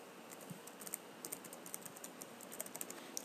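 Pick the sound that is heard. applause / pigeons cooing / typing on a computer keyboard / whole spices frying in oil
typing on a computer keyboard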